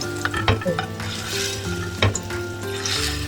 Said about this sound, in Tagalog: Then, i-fry na lang natin siya ng golden brown.